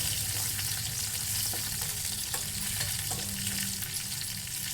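Tomato and garlic tempering in a hot pan, a dense, even sizzle of frying oil with occasional soft stirring clicks, close and continuous with no voices.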